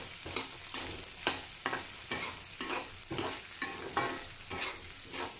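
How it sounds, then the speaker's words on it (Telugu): Okra frying in a pan sizzles steadily while a spatula scrapes and stirs it in regular strokes, each stroke giving a clear scraping swish over the constant crackle. "ఇలా వేసుకొని బెండకాయల్ని వేయించుకుందాం కాసేపు ఒకసారి కలిపేసేయండి"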